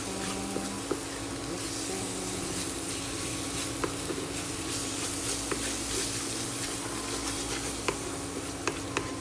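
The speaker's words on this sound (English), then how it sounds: "Just continue mixing." Lentil curry is stirred in a hot pan, giving a continuous low sizzle and bubbling hiss with scattered light clicks and taps of a spoon against the pan.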